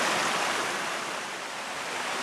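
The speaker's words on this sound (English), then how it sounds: "I just love waterfalls though. How the water just moves about it." Steady broadband rush of a waterfall on the Kumano Kodo trail in Japan, a constant loud wash of falling water with no breaks, heard close and alone.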